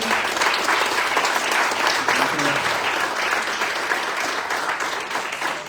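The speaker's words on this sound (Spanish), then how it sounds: "les pido un fuerte aplauso para nuestra sesión" A seminar audience at a research seminar breaks into sustained applause, a dense wash of many hands clapping at a steady level before tapering slightly at the end.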